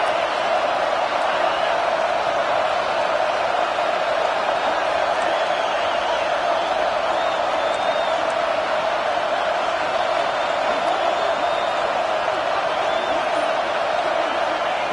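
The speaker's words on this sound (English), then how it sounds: "this crowd is fired up. Listen to this noise here." A crowd at a college football stadium roars in a dense, continuous wall of noise for the full fifteen seconds at steady loudness, with no clear breaks.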